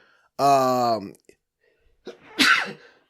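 A single loud, close sneeze: a rising voiced intake, a pause, then a sharp explosive burst.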